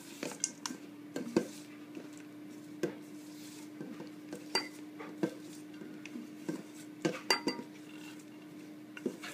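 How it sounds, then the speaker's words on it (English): A spatula scrapes and taps against a bowl while cake batter is mixed, giving close, irregular clinks and knocks over a low steady hum, with no talking. "I'm just going to use my spatula just to mix it in all together."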